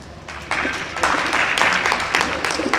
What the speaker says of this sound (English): Let's give a round of applause to a very knowledgeable and diverse panel this morning.